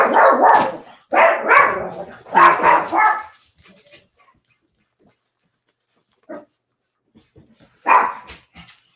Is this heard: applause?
no